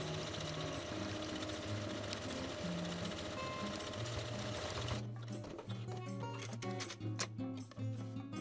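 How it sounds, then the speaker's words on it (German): A home sewing machine runs its automatic buttonhole program on jeans, stitching in a fast, steady mechanical whir that stays close and continuous, then shifts to a quieter, more broken rhythm of separate needle strokes partway through. "Nun sticke ich die Knopflöcher mit dem Programm meiner Nähmaschine."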